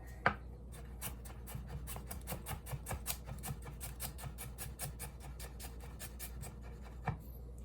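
A cheap AliExpress VG10 chef's knife rocking on a cutting board, a fast, even run of crisp taps from the blade striking wood, close and fairly quiet, continuing for several seconds with no talk.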